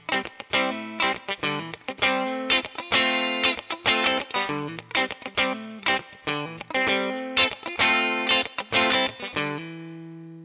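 An ESP Snapper electric guitar plays through a NUX Mighty Plug modeling the clean channel of a Fender Twin Reverb amp, giving bright, close, rhythmic strummed chords and a final ringing chord that fades out, with no voices.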